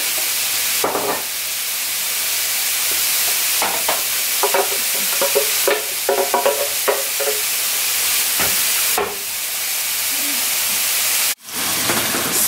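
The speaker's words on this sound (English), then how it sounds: "I'm also going to add some mushrooms that I processed. So I have some chunky bits and some softer bits" Mushrooms sizzle and fry steadily in oil in a pan, a constant loud hiss with occasional stirring clicks and scrapes throughout.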